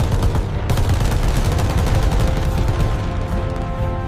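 Machine gun fire from a WWII B-25 bomber gunner as a documentary effect: loud, rapid sustained bursts of gunfire with booming low rumble, continuous throughout, no speech.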